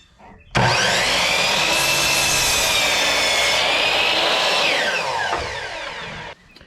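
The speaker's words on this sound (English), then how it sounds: "So I've set the miter saw up so it's at a 24 degree angle to make the appropriate cut." A miter saw set to a 24-degree angle cuts through wood for an outhouse roof rafter. The blade spins up abruptly into a loud, sustained whining cut lasting several seconds, then winds down and stops.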